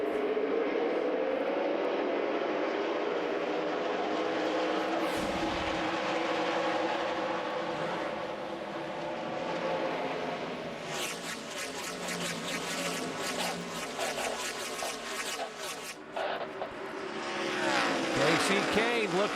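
NASCAR Busch Series race cars at the 2007 Camping World 300 rolling toward the green flag, a broad engine roar that dips, then swells as cars pass close, with a sharp whoosh near the end and commentary running underneath.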